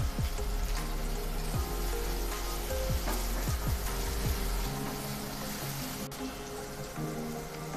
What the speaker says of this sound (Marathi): यामध्येच आलं लसणाची पेस्ट काढून घेऊया, मिरची आणि कढीपत्त्याची पानं ही सुद्धा आपण मिनिटभर परतून घेणार आहोत